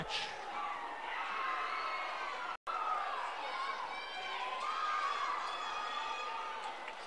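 Student sections from Lyman and Mountain View cheer and shout in a gym at a 3A West Regional volleyball championship, a loud, sustained roar of young voices broken by one brief dropout.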